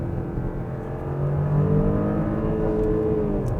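A 2019 Porsche Cayenne SUV engine revs steadily higher in manual mode while held in third gear before an upshift, a smooth rising drone heard from inside the cabin with no talk.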